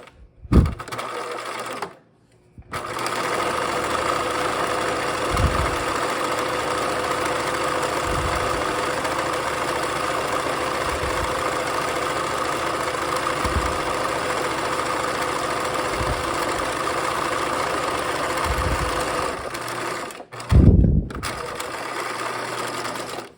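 Sewing machine topstitching backpack straps, a loud continuous mechanical whir running nearly the whole time with brief stops at the start and end, close up, no talk.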